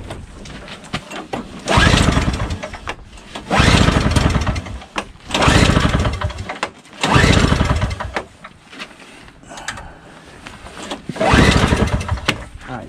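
A Craftsman snowblower with a 5 HP Tecumseh single-stage engine repeatedly fires and surges, revving loudly in several bursts then dropping back to a rough sputter, close by with no talking.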